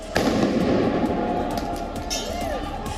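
Fireworks set off in the street by Moroccan football fans clashing with police after a semifinal loss to France: loud bangs and crackling over a noisy crowd roar that keeps up throughout.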